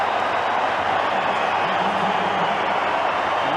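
A rugby league stadium crowd at Aussie Stadium during a tight NRL Charity Shield match between South Sydney Rabbitohs and St George-Illawarra Dragons, with a steady, dense roar of cheering filling the whole stretch.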